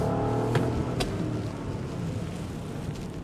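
A Ferrari accelerating hard on a heavily wet track, a steady, strong engine drone mixed with the hiss of spray and tires on water, close and continuous.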